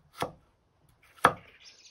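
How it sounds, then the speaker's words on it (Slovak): Kitchen knife with a convex-ground RVL34 steel blade cutting a carrot on a board, two sharp, distinct chops about a second apart, close and clear with no talking. "Krásne mi krája tú mrkvu."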